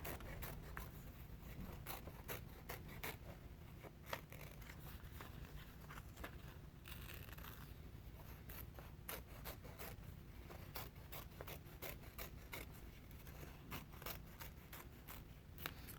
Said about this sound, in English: And then we cut the edge, leaving a little bit of orange on the edge.